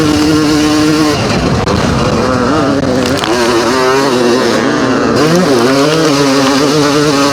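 A vintage 1988 Honda 500 CR motocross motorcycle engine revs loudly and close by, its pitch rising and falling with throttle blips over a constant roar.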